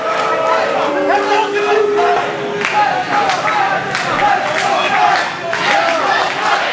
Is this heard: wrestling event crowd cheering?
yes